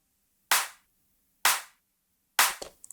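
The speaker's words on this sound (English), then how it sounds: "the clap" Three sharp, punchy clap hits from a slap house drum kit, evenly spaced about a second apart and each decaying quickly, the last followed by a few small percussive ticks; no voices.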